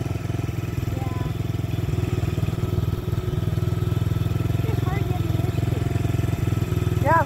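A four-wheeler ATV engine runs steadily nearby with a constant rumbling, chugging drone throughout, while faint voices can be heard over it.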